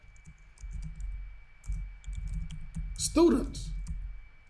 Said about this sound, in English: Please forgive my typing in this video.